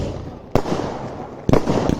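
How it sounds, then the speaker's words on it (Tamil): Fireworks burst at a village display, two sharp loud explosions about a second apart, each trailing into crackling rumble, close and alone without talk. "வெடி இவ்வளோ நேரம் தொடர்ச்சியாக வெடிச்சிருக்காங்க"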